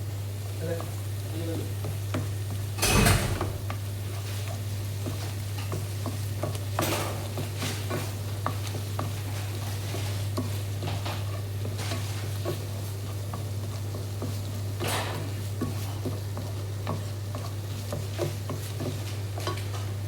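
Broccoli and egg scramble being stirred and fried in a pan, with a steady low sizzle and scattered scraping and clattering of a utensil against the pan, one louder knock early on.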